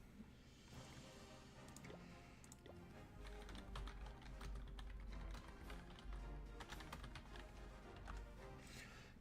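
Quick, irregular keyboard typing clatters on a computer keyboard during a mobile strategy game session about war-day base attacks, with dense clicking taps over a steady low background hum and no clear speech.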